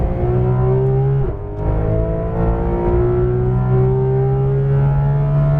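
Porsche 991.2 GT3 RS on a racetrack accelerating at full throttle, a loud, steady engine drone with rising pitch that dips briefly before climbing again, heard close from inside the car with no talk.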